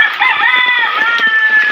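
A neighbour's chicken near a creek gives a short, loud, close drawn-out call, a single clucking cry with a clear tonal quality.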